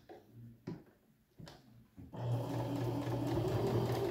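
A sewing machine stitches pajama fabric forward and then backstitches, starting with short separated bursts and settling into a steady, close whirring run.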